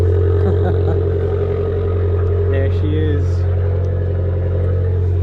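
Italian Abarth 595 with 300 horsepower, its engine running in a steady, deep idle close by, a constant low hum that carries through the whole stretch while a voice speaks briefly over it.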